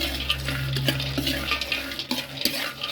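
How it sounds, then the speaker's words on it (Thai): Krabok seeds roasting in a pan over low heat, with steady stirring scrapes and light rattling of the seeds against the metal, close and moderately loud, alongside a soft sizzle and a low steady hum. "ไฟยังไม่เสมอต้องคั่วไปก่อน ไม่ได้ใช้ไฟแรง"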